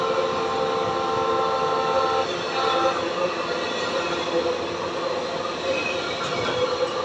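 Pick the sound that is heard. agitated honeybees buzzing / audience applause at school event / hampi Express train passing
hampi Express train passing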